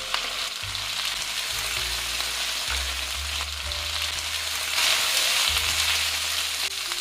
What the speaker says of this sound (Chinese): 煸干笋中水分